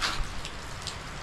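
Heavy rain pours onto a roof deck during a storm, a dense steady hiss of drops pattering on the surface, close and constant with no speech.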